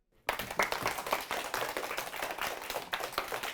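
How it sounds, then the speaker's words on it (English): Elementary school children in a classroom clap together in a burst of brisk, uneven applause that starts abruptly and keeps going at a lively pace to the end. "Simon says clap."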